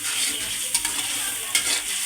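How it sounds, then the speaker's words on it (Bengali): Fish roe bhuna sizzles and fries steadily in a pan while a spoon stirs it, giving a couple of brief louder scrapes against the pan over the constant close hiss. "এখন আমি আবারও নেড়ে চেড়ে নেব।"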